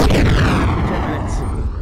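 A heavy grenade blast in the VR shooter Alpha Mike Foxtrot, one loud, close boom whose rumble decays over about two seconds.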